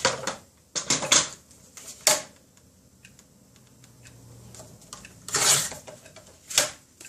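Card paper scrap is trimmed in a few sharp, close cutting snaps and clicks, separated by quiet pauses.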